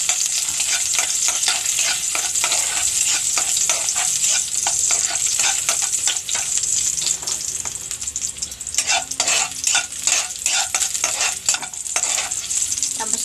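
Chicken sautés in a pan for Filipino adobong manok, a bright steady sizzle broken by repeated scraping stirs, loud and close with no talking.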